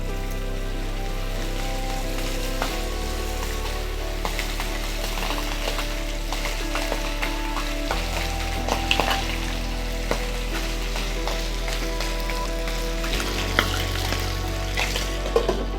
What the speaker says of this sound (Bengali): এই মাছ খুব একটা কড়া করে ভাজার ব্যাপার নেই।